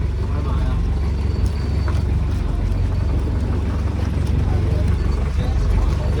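A boat engine at sea on a fishing trip in the Philippines gives a steady, loud low rumble that runs throughout, with wind buffeting the microphone and voices talking over it.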